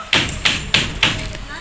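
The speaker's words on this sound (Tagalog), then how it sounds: "Pagtuktok ng pinto." Four firm knocks on a wooden door at a house in a Philippine film scene, evenly spaced and close, each a dull thump with a bright rap.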